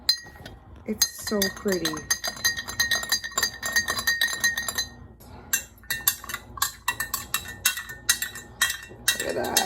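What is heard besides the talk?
spoon stirring lilac syrup in glass, clinking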